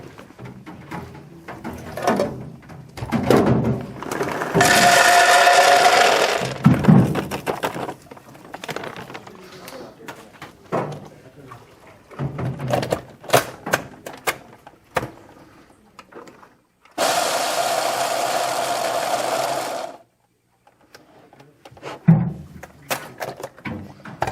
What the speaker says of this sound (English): they're big, so we'll just give them a quick grind up in the machine.